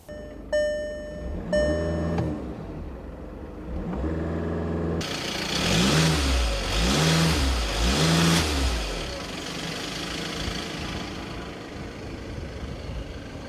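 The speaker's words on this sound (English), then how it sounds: "Listen to the engine." A 2015 Volkswagen Golf TDI diesel engine starts and revs repeatedly in rising and falling surges, then settles back toward a rough idle, loud and close.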